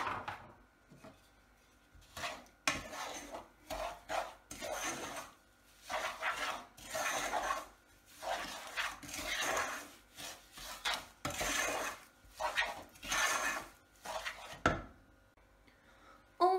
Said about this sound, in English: We're just going to pop it in and give it a stir.